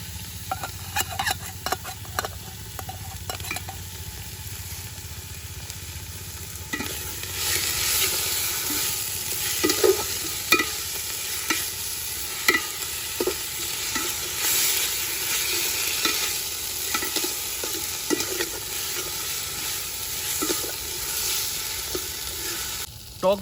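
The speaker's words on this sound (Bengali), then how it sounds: "পেঁয়াজ ভাজা হয়ে গেছে, এবার এর মধ্যে আদা রসুন দিয়ে দিচ্ছি।" Ginger and garlic go into fried onions in a pan for chicken gizzard dum biryani; scattered spoon clinks give way to a louder, brighter sizzle after about seven seconds, with steady stirring scrapes and no talking.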